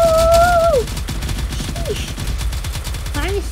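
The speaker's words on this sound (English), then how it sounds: "let's shoot at the blue battleship" Rapid gunfire in a naval battle video game as shots are aimed at a blue battleship, a steady rattling barrage running throughout, with whistling tones and sparse game sounds layered over it.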